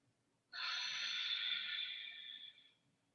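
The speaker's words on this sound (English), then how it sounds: "deeply breathing" A single long, deep breath drawn through the nose during a seated forward-fold yoga pose, sharp at the start, close and airy, lasting about two seconds before fading into quiet.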